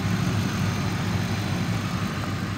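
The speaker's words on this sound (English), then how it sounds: "It idles smooth, it revs up nice." A 2007 Ford E-350 passenger van's 5.4-liter V8 idles smoothly and steadily, a low even rumble with a faint vibrating hum, close by and uninterrupted.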